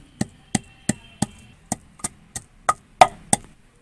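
Garlic pounded for chapli kabab masala produces about ten sharp, evenly spaced thuds, close and distinct against near silence, the last few strikes slightly harder.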